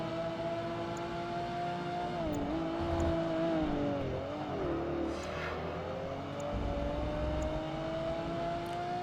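Ferrari Enzo engine in the racing game Project Gotham Racing 2, a sustained high whine that rises and falls as the car shifts and changes speed, loud and steady throughout.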